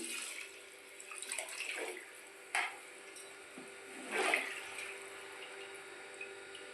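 Water poured into half a kilo of rice for chicken pulao, with masala-marinated chicken already mixed in; a soft, steady splashing with a few louder gushes, heard alone with no talk.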